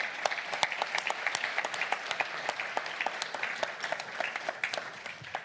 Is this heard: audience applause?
yes